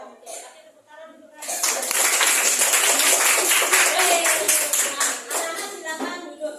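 Schoolchildren are applauded in a classroom. After a brief voice, a loud, dense burst of clapping rises and holds for several seconds, then thins out, with voices mixed in.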